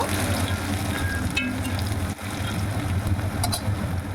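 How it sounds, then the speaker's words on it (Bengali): Chopped onions fry in hot oil tempered with whole cumin seeds and a dried red chilli, giving a steady, dense sizzle throughout with a low background hum and no talking. "পেঁয়াজ কুচি একটু ভেজে নেব"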